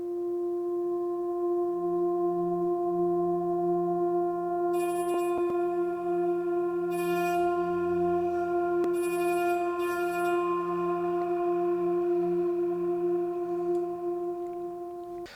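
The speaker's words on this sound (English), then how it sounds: "I love the little string noises that are coming off of it." A synth pad plugin holds steady sustained tones while brief, shimmering string-like noises flicker in at random moments over the top, with no talking.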